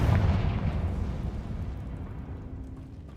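A Confringo fire spell blast in Hogwarts Legacy, a single booming impact at the start that rumbles and fades away over a few seconds, heard alone without talk.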